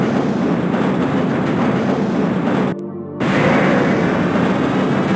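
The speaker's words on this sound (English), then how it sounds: "This train is inbound from Level 3 dormitories to Sector C test labs and control facilities" The Black Mesa tram train from the video game Half-Life rolls along with a loud, steady rail rumble and clatter, cutting out briefly to near silence midway before resuming at full volume.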